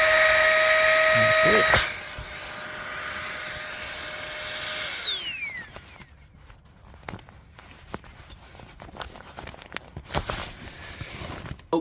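A Flex Tail Tiny Pump 2X electric air pump runs with a loud, high whine for about five seconds, then its pitch falls away as it cuts off, followed by quiet handling clicks and a brief spoken remark.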